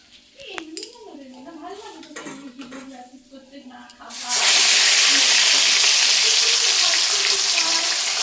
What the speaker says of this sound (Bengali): আর তেলে এই যে বাকি মাছগুলো আছে সেমভাবে